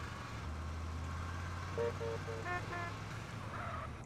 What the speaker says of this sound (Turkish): İşte niye düdük çalıyorsunuz?